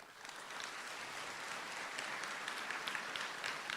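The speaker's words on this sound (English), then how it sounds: "So let's give them a big round of applause." An audience at a high school underclassman assembly applauds, a steady wash of many hands clapping that holds evenly for several seconds, moderately distant and without speech.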